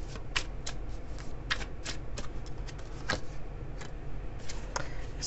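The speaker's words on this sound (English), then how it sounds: "I'm going to pull a tarot card here from my Chinese deck." A Chinese tarot deck shuffled by hand at close range, a steady flurry of soft papery riffles and flicks with rapid card snaps throughout.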